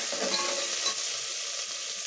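Green and dry red chillies sizzle in hot oil for tiffin sambar, a steady close crackling fry with light stirring throughout.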